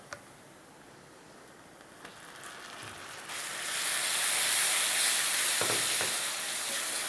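Tomatoes tipped into lightly browning onions in a pan for a homestyle aloo gobhi sabzi: a gentle frying sizzle swells suddenly into a loud, steady hiss that continues to the end.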